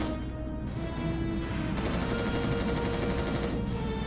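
Dense, continuous rapid gunfire and explosions from the video game Resistance Retribution, loud and unbroken throughout, with a persistent tonal hum beneath.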